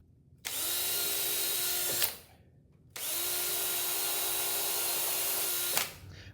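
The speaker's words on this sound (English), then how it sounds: "pre-drill some holes for screws." A power drill runs in two steady bursts of about two seconds each with a short pause between, a high whine over a gritty grinding as it pre-drills screw holes in wood.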